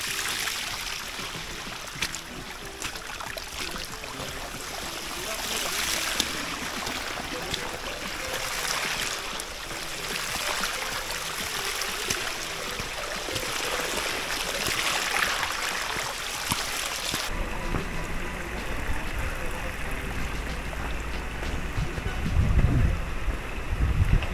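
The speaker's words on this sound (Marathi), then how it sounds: "त्या मार्गाने खूप सारे पाणी वाहत येते." Steady rushing rainwater flows continuously down a hillside path to Sarasgad Fort, with broadband hiss, wind buffeting the microphone at times; no voices, the flow dominating throughout.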